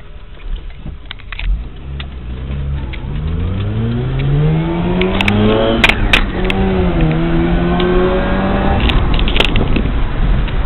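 A Mazda RX-8 engine revs up and down repeatedly, rising and falling in pitch, loud and close with a steady rumble underneath.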